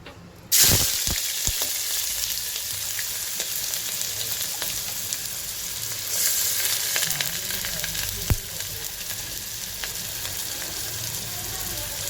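Onions dropped into hot oil for a tomato, potato and fenugreek curry burst into a loud, close, continuous sizzle that swells briefly midway and holds steady.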